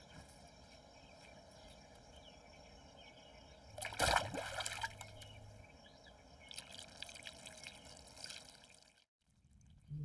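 Cold water is poured during a bath: a low background trickle runs under a sudden loud splashing gush, then comes softer intermittent pouring and a brief drop into near silence at the end.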